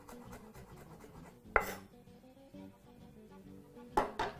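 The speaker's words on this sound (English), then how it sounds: "I'll just proceed to just roughly chop those with a sharp knife." About two garlic cloves roughly chopped with a sharp knife on a board, giving a quiet run of soft taps with two louder, sharper chops standing out.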